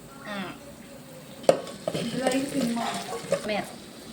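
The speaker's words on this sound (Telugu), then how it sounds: "ఆనియన్స్ అన్న గోల్డెన్ బ్రౌన్ వచ్చేలా ఫ్రై చేసుకుంటే ఆ సాటిస్ఫాక్షన్ వేరనమాట" Onions and curry leaves fry in hot oil for tomato curry with a crackling sizzle, broken by a sharp clack of a spoon stirring against the pan.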